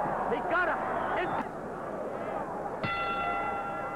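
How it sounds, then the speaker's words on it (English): A boxing ring bell rings to end the fifth round of a Sugar Ray Leonard pro fight, one clear sustained clang cutting through a loud arena crowd and a commentator's voice. "And the bell for the man, Sugar Ray Leonard,"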